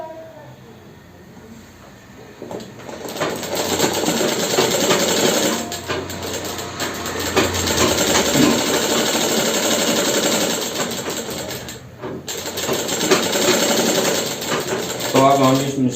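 An electric sewing machine runs in steady bursts while stitching the leg seam of cotton underwear near the gusset, a continuous mechanical whir with brief pauses and faint speech underneath.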